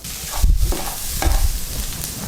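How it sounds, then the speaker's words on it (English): Vegetables for a pizza casserole are sautéed in a pan, a close, busy sizzle with a couple of louder scraping stirs as they are pushed around. "it's important to saute the vegetables"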